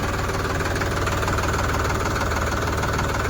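A tractor engine runs steadily at close range, a low throbbing, knocking idle that continues unchanged throughout without any talking.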